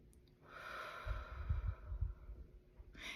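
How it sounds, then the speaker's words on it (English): One slow, deep breath, soft and close: a gradual airy inhale that swells, then a breathy release, with no speech. "Take a deep breath."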